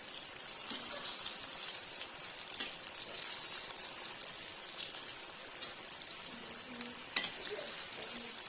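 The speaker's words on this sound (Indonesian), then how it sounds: "kita aduk-aduk biar masaknya ini merata" Crispy tofu deep-frying in hot oil while being gently stirred, giving a continuous bright sizzle close by, with occasional soft knocks of the utensil and no voices.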